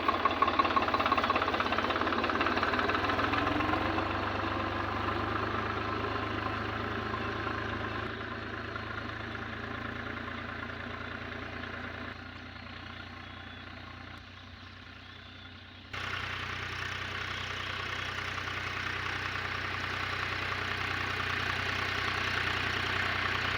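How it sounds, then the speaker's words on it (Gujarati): A tractor engine runs steadily with a low, rumbling drone, continuous throughout, dipping slightly partway before returning to full strength. "ફાઇનલ આપણે ટ્રેક્ટર હાંકી નાખ્યું"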